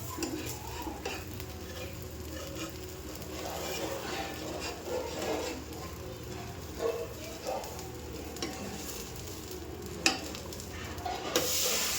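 Dosa batter cooking on a hot pan at home, with a soft steady sizzle, occasional scrapes and utensil clinks against the pan, and a sharp tap near the end. Someone speaks quietly underneath.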